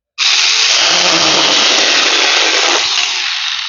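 A cordless mini chainsaw from AliExpress cuts through a stick, starting abruptly with a loud, high-pitched buzzing whine that holds steady, dips briefly under load, then carries on.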